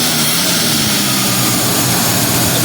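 A 1971 Mercury Comet V8 engine revving, a loud, steady, close roar that holds throughout with no talking.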